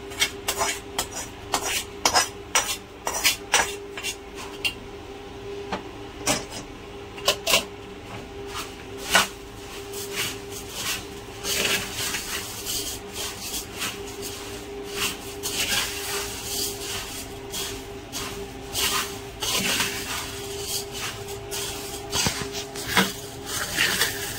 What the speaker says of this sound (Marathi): हा आता आपण कुरमुऱ्यामध्ये टाकायचा आहे